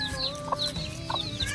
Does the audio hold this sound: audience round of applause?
no